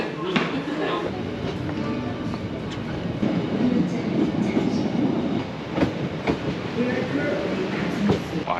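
A train carries passengers toward a beach in Busan, South Korea, its steady rumble and rattling wheels filling the cabin, with occasional clacks and faint voices mixed into the continuous noise.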